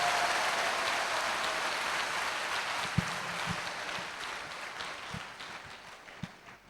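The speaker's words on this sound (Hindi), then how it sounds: "बोलो यीशु प्रभु की जोरदार ताली यीशु और पवित्र आत्मा के लिए।" Congregation applause at a Hindi-language church service, a steady wash of many hands clapping together, fairly loud and continuous with a few sharper slaps standing out.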